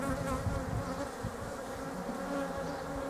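Honey bees buzz at the hive in a dense, continuous drone. Many overlapping wingbeats hold a steady, close hum with no talk.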